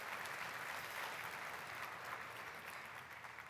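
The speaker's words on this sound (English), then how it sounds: "round of applause for Alex." A crowd applauds steadily, a dense wash of clapping that fades slightly toward the end.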